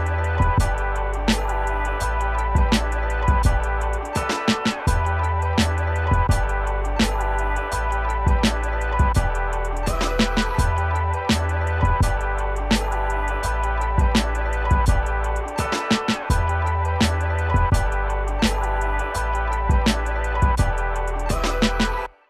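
A boom bap hip-hop instrumental built from loops, with a melody and bass lines over steady, punchy drum hits, playing loud and continuous throughout without any voices.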